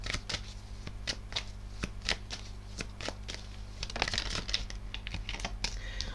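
Tarot cards being shuffled by hand, a rapid run of close, crisp flicks and riffles over a low steady hum, growing busier toward the end.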